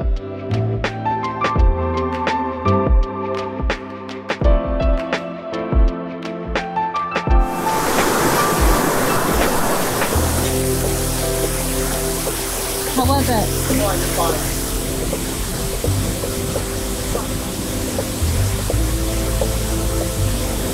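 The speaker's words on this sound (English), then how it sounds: "we're at our last waterfall of the day" A waterfall in Ubud, Bali, reached over bamboo bridges, heard as a steady, loud rush of falling water that swells in midway and then holds as a constant roar.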